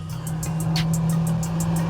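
A 2002 Honda S2000 engine drones steadily at close range with a strong low hum as VTEC engages, while a rhythmic chattering tick repeats overhead throughout.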